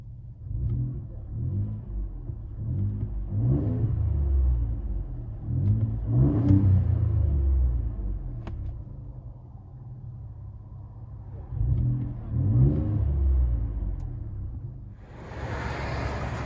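A Ford F-150 EcoBoost V6 with a Borla Pro XS exhaust revs in repeated deep, rumbling bursts with pauses between, loud and close, ending with a rising rush of broadband noise.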